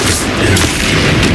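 Confringo blasting spell cast in the Hogwarts Legacy video game, a loud, dense, booming blast that fills the whole moment without a break.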